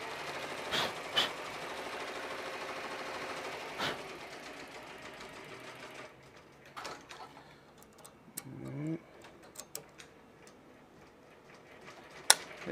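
An embroidery machine stitching hats runs with a steady rapid ticking rhythm, joined by scattered clicks, thumps and brief mechanical clatter, close and moderately loud with no talking.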